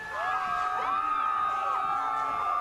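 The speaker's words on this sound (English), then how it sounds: "Thousands and thousands of fans saying thank you to their Florida Marlins" Thousands of fans cheer at the Florida Marlins 2003 World Series champions parade in downtown Miami: a steady wash of crowd noise with rising and falling whoops and shouts carrying over it.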